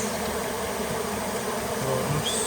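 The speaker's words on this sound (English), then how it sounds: "There's quite a lot of bees in here." Bees swarm in a flat roof cavity during a removal job, giving a steady, dense buzzing drone that stays close and even throughout, with no talking over it.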